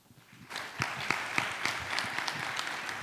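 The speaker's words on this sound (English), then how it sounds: "another round of applause for her, please" A formal diplomatic event audience breaks into applause after a speech, the clapping starting quietly then building into steady, dense applause with distinct sharp claps standing out.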